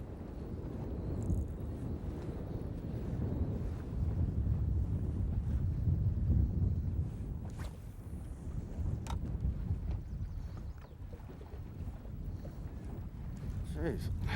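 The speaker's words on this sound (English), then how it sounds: "we're getting some wind" Steady wind gusts over a small fishing boat out on open water near a reef, a constant low rumble of wind buffeting the microphone for the whole stretch, with faint clicks and knocks from gear on board.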